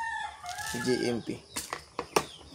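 Chicks peeping at a Philippine poultry setting at wet-feeding time, several thin high chirps close by mixed with a rooster-like call and clattering knocks, while someone speaks briefly.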